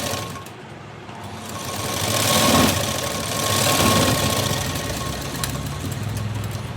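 A sewing machine stitches a blouse front piece, its motor humming in a steady close whir with rapid needle chatter that swells and eases in two long runs.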